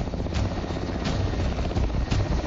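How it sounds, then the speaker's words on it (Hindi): A helicopter flies from the Gauchar airstrip during a relief operation, a loud, steady rotor thump with rhythmic blade pulses and engine roar, heard close and without speech. "हेलीकॉप्टर गौचर एयर स्ट्रिप से लगातार उड़ान भर रही"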